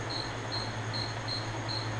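A cricket chirps close by in a steady repeating pulse, about two short trills per second, over a constant low hum and faint background hiss.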